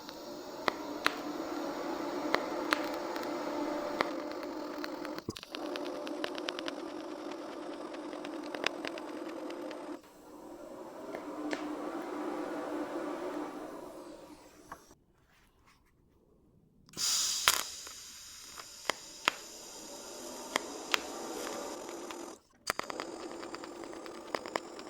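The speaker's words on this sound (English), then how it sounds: "Start welding." Suspension parts for a scratch-built long-travel suspension are welded in steady buzzing runs, broken by short pauses and a longer silent gap, then resume.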